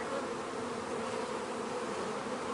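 Honey bees at a hive that is preparing to swarm and has queen cups, making a dense, continuous buzz that holds steady and fills the space up close, with no voices.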